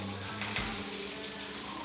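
Tempering (oggarane) crackles and sizzles in hot oil in a home kitchen during festival cooking, a steady frying hiss with a brief louder burst as it spreads, close by and with no speech.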